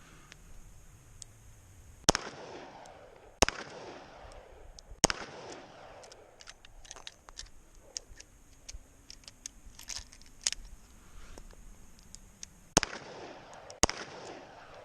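Shots from a Kimber K6S DASA .357 revolver firing full-power .357 loads at an outdoor range: five sharp, loud cracks spaced a second or more apart, with quiet gaps and faint rustling between them.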